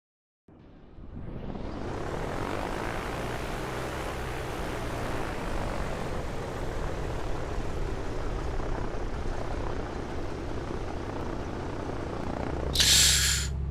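A2A Comanche propeller aircraft engine in Microsoft Flight Simulator, flying toward the Grand Canyon, starts up and then holds a steady, loud droning hum with a deep thrum. A short bright burst cuts in near the end.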